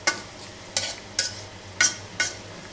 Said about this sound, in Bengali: পেঁয়াজ আর পাঁচফোড়ন সব কিছু ভাজা ভাজা হয়ে গেছে